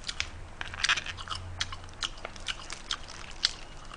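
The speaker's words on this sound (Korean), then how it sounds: "얘는 잔뼈는 그냥 씹어 먹거든 나는." Someone chews spicy blue crab, crunching through the small shells and bones up close in a steady run of sharp, irregular crackles and bites with no talking.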